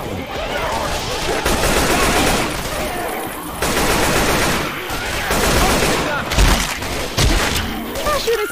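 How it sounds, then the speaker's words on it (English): Zombies are gunned down in Left 4 Dead 2 with sustained, loud automatic fire and dense overlapping shots, while players talk over the din. "I'm shooting some damn zombies."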